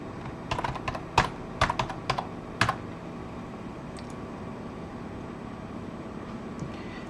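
Someone types a password on a computer keyboard in a handful of quick clustered clicks, then stops, with a faint background hum continuing afterward and no talk.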